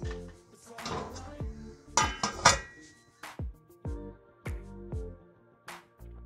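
Metal clanks and clinks sound as a lid goes onto a cooking pot of rice in a home kitchen, with several sharp ringing knocks spread irregularly across the stretch, close by and moderately loud, and no talking over them.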